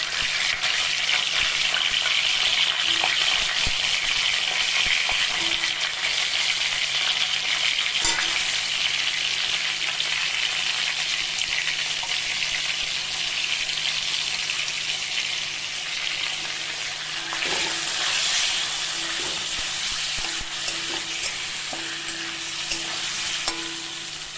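Tomato and black cumin fry in a pan with a steady, loud sizzle that hisses on for nearly half a minute, broken by faint occasional taps of stirring and no talk.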